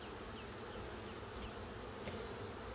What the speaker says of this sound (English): there are a lot of bees on the front of the box